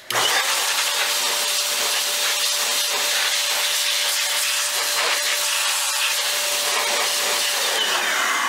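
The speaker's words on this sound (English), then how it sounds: "And blow all the dust off of its connector." Compressed air blows dust off the riser card connector of an HP Z620 workstation, a loud, steady, close hiss that starts abruptly and runs without a break, carrying a faint whistling tone.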